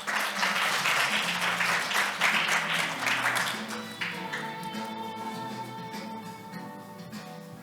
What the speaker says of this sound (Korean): 이현정 교수님께 박수 부탁드리겠습니다